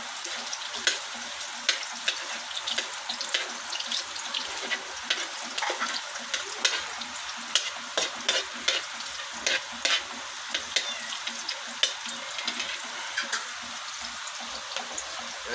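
Garlic and onion fry in a pan over a smoky wood fire, a crackly sizzle broken by sharp clicks and scrapes of a stirring utensil, close up and moderately loud with no talking.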